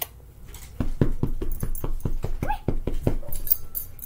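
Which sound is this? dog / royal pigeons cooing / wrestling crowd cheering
dog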